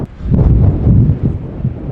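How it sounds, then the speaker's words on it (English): Strong wind in Iceland buffets the microphone in a steady low rumble, gusting and roaring close up with no talking. "Still very windy here"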